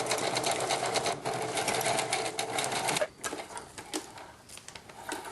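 Sewing machine stitching juice pouches together for a lunch bag: a fast, steady mechanical whir runs for about three seconds, stops, then returns in shorter, broken bursts.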